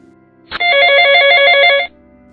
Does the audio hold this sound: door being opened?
no